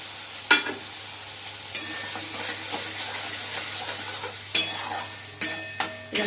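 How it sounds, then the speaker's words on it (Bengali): Cashew and poppy seed paste frying in a pan for a Bengali pantua curry, a soft continuous sizzle with occasional spatula scrapes and clinks, close and moderately quiet, no voices. "এই বন্ধুরা, কাজু বাদাম আর পোস্ত বাটা দিয়ে দিলাম"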